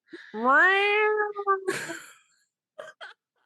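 A person's voice imitates a cat with a long, drawn-out rising "meow," followed by a short pause and two brief, quieter sounds.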